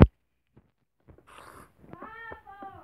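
Cat meowing in the Minecraft video game: a few short, tonal meows in the second half, fairly close and clear, following a sharp click at the start and faint scattered sounds.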